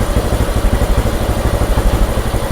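A motorcycle engine runs steadily after a mileage setting adjustment, a loud, close, rhythmic putter with a fast even pulse and no talking over it.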